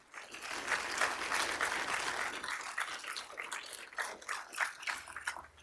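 Members of the public applaud at a city council meeting, a sustained burst of many hands clapping that swells early, then thins into scattered, uneven claps toward the end.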